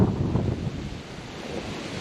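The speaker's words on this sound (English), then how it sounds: "See if we can get out of this wind a little bit." Gusty wind buffets the microphone outdoors at a resort, a steady low rumble that swells louder in the first half and then eases slightly, with no talking.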